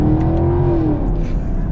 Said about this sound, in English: gotta listen to this V8